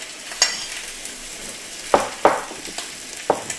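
An entrecôte steak grills in a pan with a quiet, steady sizzle, punctuated by a few sharp clicks and taps from a utensil at the pan.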